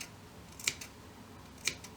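Scissors snip twice, about a second apart, clipping into fabric around the curved edges of a turtle stuffie sewing project; each cut is a short, crisp click in a quiet room.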